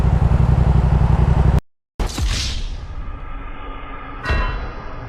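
A 2022 Yamaha R7 sport bike ridden in snow rumbles close by, then cuts out briefly. When the sound returns it comes with whooshing wind and a rising pass, ending in a sharp hiss.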